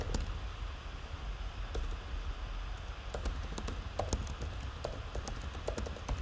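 Quick, irregular clicks of keys being typed on a computer keyboard over a soft steady hiss, with no talking.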